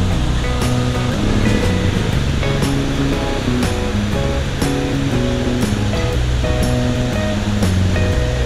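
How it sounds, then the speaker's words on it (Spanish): La Cuba waterfall near San Luis, Antioquia, roars as a loud, continuous rush of falling water, with steady broadband noise and no voices. "La cascada La Cuba"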